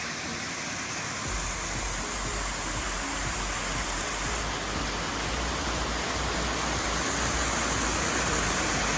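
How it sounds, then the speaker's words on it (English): Big Stone Coal waterfall in the Dolly Sods Wilderness, West Virginia, roars as a dense, steady rush of falling water, loud and close, with no voices. "Big Stone Coal waterfalls, one of the nicest ones in the Sods"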